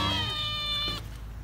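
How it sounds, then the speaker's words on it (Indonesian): A cat at a mini zoo meows once, a single drawn-out tonal cry heard close up that fades at the end. "Ini bukan harimau lah, ini kucing."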